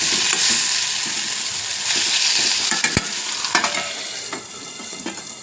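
Tomatoes and aubergine sizzle steadily in hot oil while a utensil stirs and scrapes the pan, with a few sharp clinks and taps.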